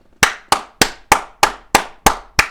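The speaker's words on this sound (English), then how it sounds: "We just gotta clap it up for everyone who subscribed." A single person's hand claps, eight sharp, loud claps close by at a steady, even pace with no talking.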